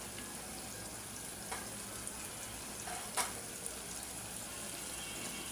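Prawns sautéing with spices in a pan, a quiet continuous sizzle with a couple of short stirring clicks, close but faint and without voices.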